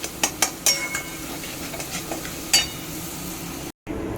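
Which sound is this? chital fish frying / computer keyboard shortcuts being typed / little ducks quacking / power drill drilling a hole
chital fish frying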